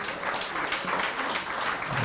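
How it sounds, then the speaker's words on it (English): Audience applause fills a hall during a standing ovation at a corporate family event, a dense, steady wash of many hands clapping at even loudness for about two seconds. "A big round of applause."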